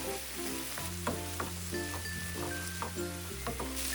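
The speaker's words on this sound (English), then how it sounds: "Keep stir frying until the moisture is mostly gone." Steady sizzling of kimchi stir-frying in a hot pan with a spatula scraping and clinking in a regular stirring rhythm, close and fairly quiet.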